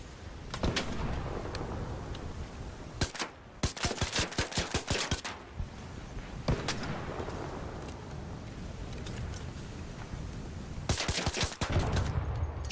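A turret in the video game Arc Raiders fires rapid, loud machine-gun bursts, several separate volleys of quick repeated shots with harsh rumbling noise between them.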